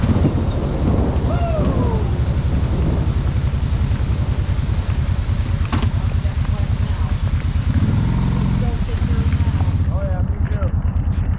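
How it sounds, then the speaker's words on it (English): Heavy rain pours steadily throughout, with deep rolls of thunder rumbling underneath, while a person caught outdoors in rain gear speaks now and then over the downpour. "Get some video of us going in the rain here."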